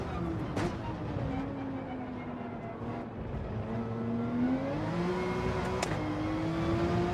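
A Porsche engine drones steadily in Gran Turismo 7, its pitch slowly falling and then rising as the car drives, over a continuous mid-level rumble with a couple of brief clicks.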